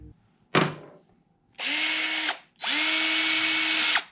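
A power drill with a half-inch bit bores into wood in a shop, running in two sustained, loud whirring bursts after a single sharp knock at the start.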